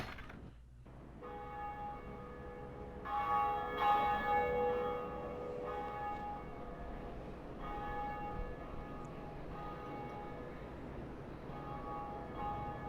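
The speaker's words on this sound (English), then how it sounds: "we rang the bell!" A church bell rings in the Dark Souls video game, its sustained tones swelling and decaying over a steady ambient bed, with a brief dip in the sound near the start.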